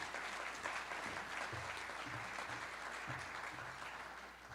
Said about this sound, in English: Please, one more time, a round of applause for Chair Charlie Zelle.